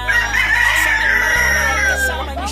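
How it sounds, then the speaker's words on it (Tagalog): Chickens crowing loudly and continuously, with drawn-out rooster calls layered over clucking, close by, under a steady low hum. "Marami kayong mga manok"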